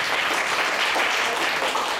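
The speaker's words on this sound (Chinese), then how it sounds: "我们掌声给 Steven 一下" A congregation applauds a guest named Steven, a dense, even burst of many hands clapping that fills the whole moment.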